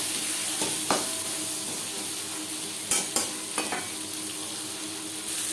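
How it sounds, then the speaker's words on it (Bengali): Potatoes and pointed gourd being stirred with salt and turmeric in a pan with little oil, a soft sizzle broken by several sharp scrapes and clinks of the spatula against the pan, with no talking. "লবণ হলুদ পটল আলুর সাথে বেশ ভালো করে মিক্স করে দেবো"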